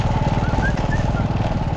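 Motorcycle engine running steadily on a rough dirt road, a low throbbing idle with a regular pulsing rhythm, close and fairly loud throughout, with faint voices in the background.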